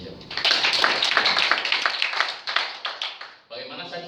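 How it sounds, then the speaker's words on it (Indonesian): Audience applause at an indoor talk, a steady dense patter of clapping that fades somewhat toward the end, with a brief shift near the close. "Tepuk tangan buat Prudential."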